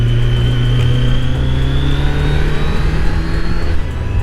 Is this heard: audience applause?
no